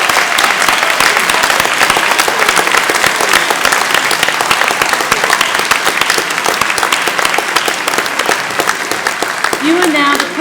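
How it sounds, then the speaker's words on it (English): An audience at a degree ceremony gives sustained, dense applause throughout, loud and even, with a brief voice near the very end. "let's give your supporters the round of applause they deserve"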